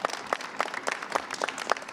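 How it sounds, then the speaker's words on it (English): A modest crowd at a school ribbon-cutting ceremony applauds, with distinct, fairly quiet claps in a loose, uneven rhythm throughout. "we should give the principal, the teachers, the faculty, and the PTO a big round of applause, please"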